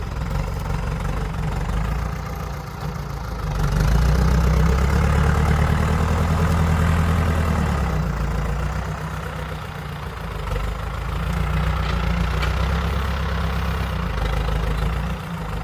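A tractor engine runs steadily on farmland being leveled, a low, droning idle that swells louder for a few seconds and then settles back into a constant rumble, with no talk over it.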